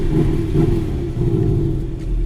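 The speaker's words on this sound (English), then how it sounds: "It's a little bit of a raspy startup there" A Porsche 718 Boxster's 2-liter four-cylinder engine idles just after starting, a rough, raspy rumble that stays steady and fairly loud.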